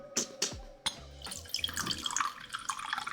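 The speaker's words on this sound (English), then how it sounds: "welcome to Tea Pouring with Tally" Tea poured into a cup in a home setting, a thin trickling liquid stream with a few sharp clinks and drips at the start, then a steady splashing pour that grows brighter and fuller, close and moderately loud.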